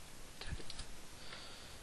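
A few quiet keystrokes on a computer keyboard while typing text, soft clicks clustered in the middle of an otherwise hushed moment.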